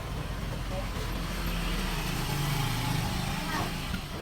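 A motorcycle engine drones steadily during a ride home under hot weather, with continuous road and wind rumble throughout at a constant level.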